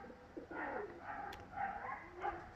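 Pigeons cooing, several soft rounded coos in a loose rhythm close by, with a little background noise and a brief sharp high tone partway through.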